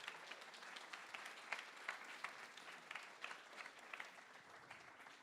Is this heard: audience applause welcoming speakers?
yes